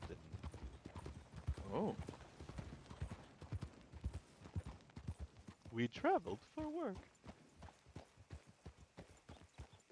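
A horse's hooves clip-clop in a steady, regular walking rhythm on a hard surface, close and continuous, while people talk over it and a brief whinny-like call rises midway.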